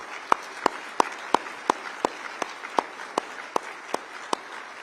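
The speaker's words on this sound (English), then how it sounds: "So let's give him another big round of applause." Applause after a life saving award at a city address: sparse, evenly spaced single claps, roughly a dozen crisp sharp strikes over a low room hiss, fairly faint and steady throughout.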